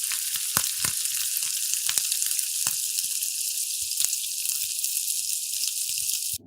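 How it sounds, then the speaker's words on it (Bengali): Boiled pumpkin greens frying in a pan with chopped garlic, a bright continuous sizzling hiss broken by a few sharp crackles and pops, close and fairly quiet. "এখন ভেজে কিছুটা বাদামি রং করে এর মধ্যে সেদ্ধ করা কুমড়া শাক দিয়ে ১ থেকে ২ মিনিটের জন্য ঢেকে দিব।"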